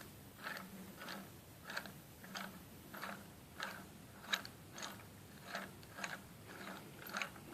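A threaded tool being cranked during an LQ9 cam swap on a 1967 C10 rat rod, giving a steady, evenly spaced series of soft ratcheting clicks, close and fairly quiet, with no talking.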